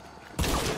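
A single loud gunshot in Hunt: Showdown, a sharp broadband burst cutting in partway through and ringing out briefly afterward.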